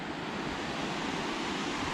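Creek water rushes steadily on the Big Creek Loop Trail in Olympic National Forest, Washington: a dense, continuous broadband wash with no breaks, close and moderately loud, with no voices.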